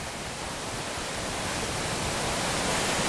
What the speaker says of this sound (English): We can see the waterfall cascading down